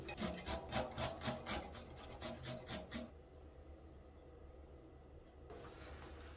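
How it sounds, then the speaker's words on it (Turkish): Garlic cloves rubbed over a fine grater for pizza sauce, giving about a dozen quick, even rasping strokes close to the mic for three seconds, then near silence with faint handling noise. "Sarımsağı şöyle ince bir rendeden geçiriyorum."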